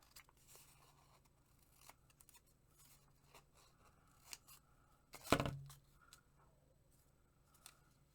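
Scissors trimming a piece of book page paper, with faint snips and paper rustles leading up to one sharp, louder cut near the middle, set against a quiet room.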